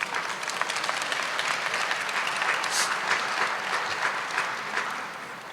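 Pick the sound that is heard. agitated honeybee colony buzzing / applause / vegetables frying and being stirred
applause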